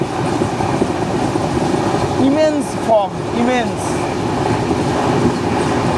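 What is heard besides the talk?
train running on tracks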